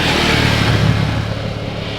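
A 2026 Ducati Multistrada V4 Rally ridden hard on a damp, tricky road: a steady, loud engine drone with rushing wind noise throughout, no voices.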